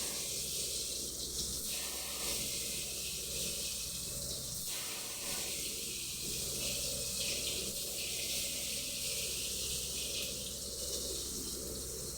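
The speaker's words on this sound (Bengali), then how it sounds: "এত ধুই তাও চালে দেখো কীরকম হয়ে আছে।" Rice is washed under a running kitchen tap, with steady splashing and hissing water that shifts in tone as the grains are stirred and swirled, faint and without speech.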